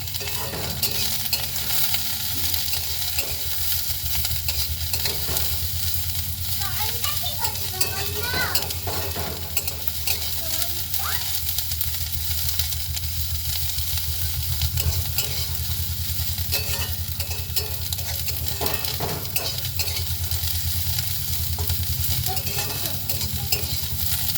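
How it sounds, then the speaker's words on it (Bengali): Cauliflower frying in mustard oil in a pan, a steady loud sizzle running throughout with repeated scraping stirs of a spatula against the pan. "সর্ষের তেল দিয়ে ভালো করে ভেজে নেব"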